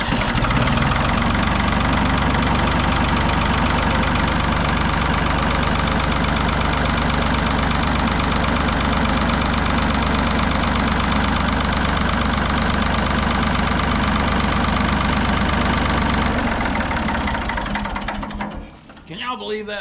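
An old Ford tractor engine, started for the first time in eight years, runs loud and close with a steady knocking idle, then cuts out near the end.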